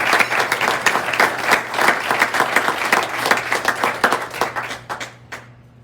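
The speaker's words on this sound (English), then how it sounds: "can we have a round of applause for her?" A room of Rotary club members applauds their leader with lively, distinct claps, moderately close and steady, before the clapping thins into a few scattered final claps and stops.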